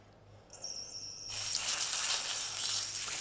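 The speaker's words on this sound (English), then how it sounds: "It sizzles in a pan, but was grown in a lab." Lab-grown beef, cultured from cow cells, sizzles in a pan; a faint tone gives way to a loud, bright crackling hiss that holds steady to the end.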